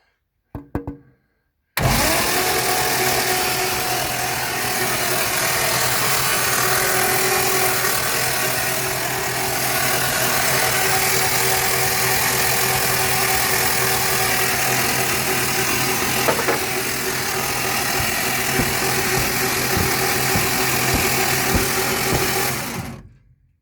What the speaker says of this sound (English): I've got like this crude setup here just to see if I can crank it over.